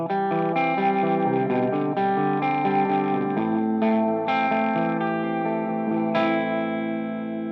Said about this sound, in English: you get kind of a nice like overdrive feel to it